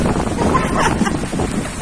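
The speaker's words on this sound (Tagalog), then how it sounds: "Grabe Unos!" Strong storm wind in Davao City buffeting the microphone with a steady roaring rush, rain mixed in and faint voices beneath.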